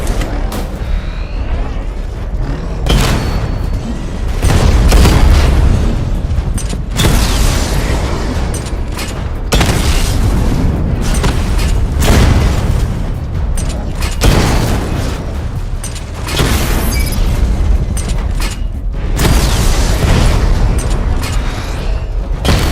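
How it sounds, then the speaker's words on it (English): A level-two missile barrage from Batman's vehicle in Batman Arkham Knight pounds through a diagnostic test simulation as a sustained series of heavy, loud explosions, each boom crowding into the next with mechanical whirring under them. "Charge up missile barrage to level 2 and destroy 4 active targets to complete diagnostic test"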